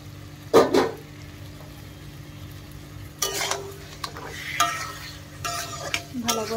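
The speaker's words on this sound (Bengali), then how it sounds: "মশলাতে তেল ছেড়ে এসছে, এবার দিয়ে দেবো চিকেনটা" Chicken marinated in yogurt and turmeric frying in spiced oil, bursts of sizzling and spatula scraping against a pot, intermittent and close, separated by quieter gaps.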